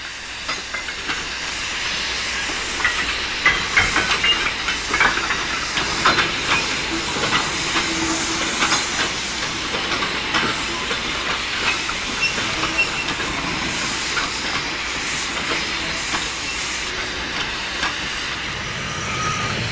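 A Manning Wardle industrial steam locomotive at a loco shed at Gretton Brook, Corby, hisses steam steadily and loudly, with faint clanking and rail noise underneath throughout.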